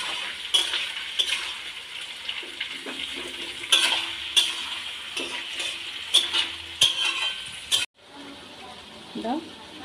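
Chilli chicken frying in oil in a pan, with a moderate sizzle and repeated stirring scrapes, then a sudden drop to a quieter hiss near the end.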